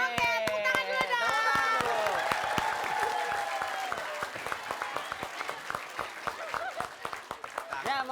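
An audience applauds loudly and steadily at a live studio comedy game show, with dense clapping, some cheering and overlapping voices, the applause slowly thinning toward the end.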